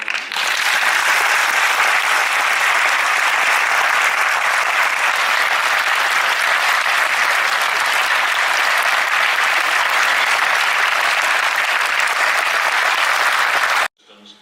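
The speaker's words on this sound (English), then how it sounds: "we'll give you a huge round of applause" A large audience applauds loudly and steadily at the close of an interview with astronaut Scott Kelly, a dense even clapping that lasts about fourteen seconds and then stops abruptly.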